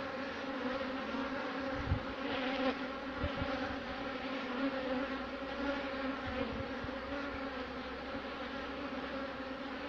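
Honeybees buzz steadily around a hive frame as they build wax comb, a dense and continuous droning hum close up with a few faint knocks underneath.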